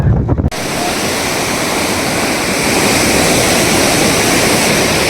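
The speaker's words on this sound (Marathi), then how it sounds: "अशाप्रमाणे मोठ्या प्रमाणात पाऊस आल्यामुळे बोर्डी नदी ओसांडून वाहत आहे" Floodwater from the Bordi river, overflowing after heavy rain near Khamgaon, rushes in a loud, dense, continuous roar that begins abruptly after a brief muffled moment and stays close and powerful.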